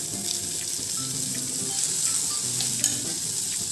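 Ginger garlic paste sizzles and fries in a pan with golden browned onions. The frying is steady and close, with light stirring clinks and scrapes on top.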